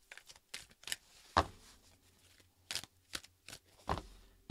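Baseball cards are shuffled by hand during a live card break, giving short crisp bursts of riffling and snapping card noise at irregular intervals, close and fairly quiet.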